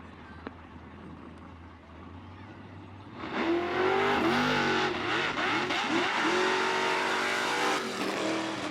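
A Chevy Luv pickup making a wheelstanding run at a power wheelstanding championship, its engine suddenly roaring up loud and sustained over a quieter crowd-filled background, with a commentator talking throughout.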